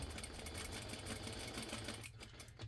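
A sewing machine stitches a cat-themed Christmas stocking at a quarter-inch seam, its motor whirring steadily and close for over two seconds before easing off slightly near the end.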